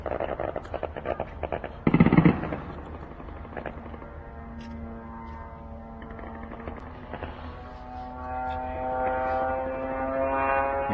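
A steady droning engine of a military drone flying overhead hums with a rising tone, joined by a sharp burst near the start, continuing loudly to the end.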